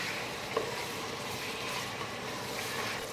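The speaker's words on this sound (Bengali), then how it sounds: "চিকেনটাকে ভালো করে একটু সময় নিয়ে ফ্রাই করতে হবে" Marinated chicken pieces fry in a pan with a steady, close hiss of oil and a brief clink near the start, continuous and unbroken throughout without any voices.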